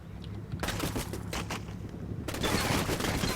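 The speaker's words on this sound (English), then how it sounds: "they got incoming fire from the church" Rapid gunfire from a church in a military video game: dense, crackling bursts of automatic shots, loud and continuous, growing heavier near the end, with no talking over it.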